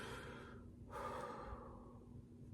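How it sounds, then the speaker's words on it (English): Slow, deliberate breaths close to the ear: a long airy exhale, then a sharper inhale and another gradual release, with no talking. "So slow, intentional breathing"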